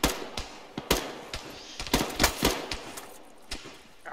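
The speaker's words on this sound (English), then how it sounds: "Are we shooting pepper balls?" Pepper ball rounds fired in the game Cache Out, loud sharp shots in irregular single cracks and short bursts over about four seconds, close up, with no talking.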